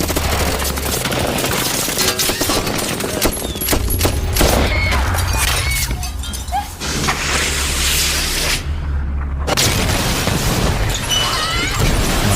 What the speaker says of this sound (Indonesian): Hujan peluru terus membombardir rumah Frank, dan setelah tembakan berhenti, sebuah rudal kembali diluncurkan ke arah rumah Frank.